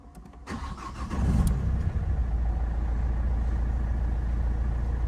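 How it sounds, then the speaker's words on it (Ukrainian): An Opel Astra H engine cranks briefly and catches, then settles into a steady, close idle that continues evenly for several seconds with no talk over it. "Машина заводиться і працює."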